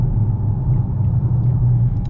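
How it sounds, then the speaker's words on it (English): A Dodge Charger RT cruising on the road gives off a loud, steady low engine rumble from inside the cabin. It is continuous and unbroken, with no voices. "This is what it's like to daily drive a Dodge Charger RT."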